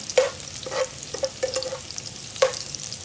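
Garlic and onion sautéing in oil for chicken tinola sizzle softly under repeated spatula scrapes and clinks against the pan, arriving in short irregular bursts close by.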